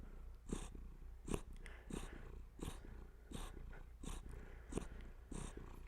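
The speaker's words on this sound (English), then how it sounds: "I just hold him and let him purr" A cat held in someone's arms purrs close up, a soft rhythmic rumble pulsing about once every half second, quiet and steady with no talking.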